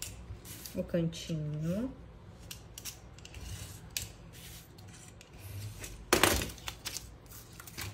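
Scissors or a blade cut through the side of a cardboard piece for a craft block, a few short close snips and scrapes, with faint talk nearby.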